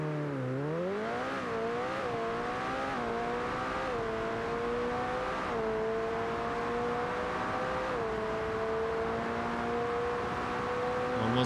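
A McLaren Speedtail supercar engine in the BeamNG driving game revs hard and climbs steadily, its rising harmonic whine pausing briefly at each upshift before building again, loud and continuous with no talk.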